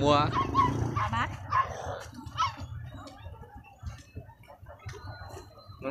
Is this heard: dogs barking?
yes